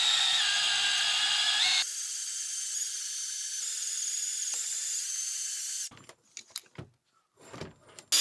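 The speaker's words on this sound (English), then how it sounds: "having a little bit more time drilling through all the layers" A drill runs continuously through a suspension bushing with a metal ring inside, first at a high whine and then at a lower, steadier pitch, before cutting off and leaving a few scattered clunks and handling noises.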